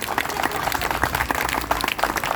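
Audience applause at an award ceremony as a shield and Bhamashah honour are presented, a dense, steady wash of clapping that fills the whole stretch at even volume, with a few louder bursts and some voices mixed in.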